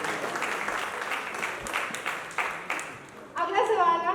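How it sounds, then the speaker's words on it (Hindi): Loud, dense applause from the audience at a Taarak Mehta Ka Ooltah Chashmah cast celebration, honouring Iyer, then fading as a voice starts speaking near the end. "एक बार जोरदार ताली बजाएं अय्यर जी के लिए यार"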